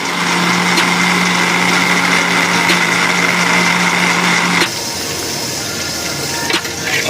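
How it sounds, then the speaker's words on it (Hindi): Electric grinder churning onion, garlic, chili and ginger, a steady loud motor whine that runs for several seconds and then drops to a lower, rougher hum before a brief bump near the end. "प्याज ले लें, लहसुन ले लें, मिर्च ले लें, अदरक ले लें। ये हमने ग्राइंड करना है।"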